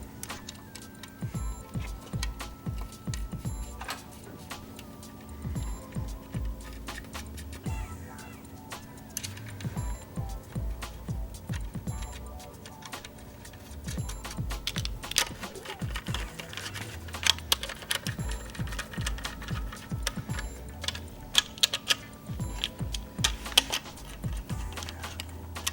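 Torque wrench tightening the connecting rod cap bolts on a 1.3L Suzuki Samurai engine during rebuild, with repeated close clicks and ratcheting taps over a low workshop hum, steady and fairly quiet.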